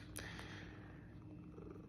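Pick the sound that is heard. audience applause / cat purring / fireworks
cat purring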